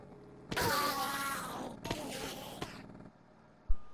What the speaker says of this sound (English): And that we just heard is what I like to call creepy Minecraft sounds.